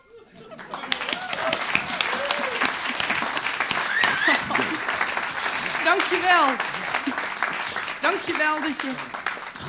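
A theater audience breaks into applause for a comedian, the clapping swelling quickly and holding dense and close, while someone speaks briefly over it.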